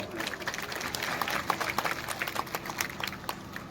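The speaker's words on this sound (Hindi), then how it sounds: "जोरदार ताली बजाओ।" A crowd at a Hindu gathering applauds, scattered clapping bursts rising and falling over a murmur of voices, moderately near and sustained throughout.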